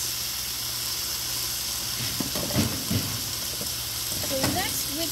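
Shrimp sizzling on a Blackstone flat-top griddle, a steady loud frying hiss with scraping and stirring clatter from a spatula partway through.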